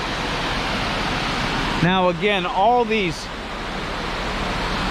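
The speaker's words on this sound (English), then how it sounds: "Look at that, falls over there." Waterfalls in the Mill Creek Park gorge in Youngstown, Ohio give off a constant broad rushing roar, with someone speaking briefly over the falling water.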